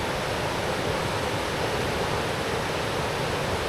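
A river swollen and churned up by recent rains roars in a dense, constant rush of water, loud and unbroken, along the Meadow River Rail Trail in West Virginia, with no voices.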